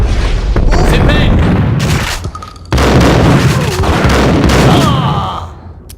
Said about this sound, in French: Une petite grenade